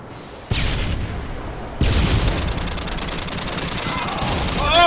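Gunfire in a shooter video game during a sniping exchange: a loud sudden shot, then a second blast leading into dense, rapid automatic fire that continues to the end.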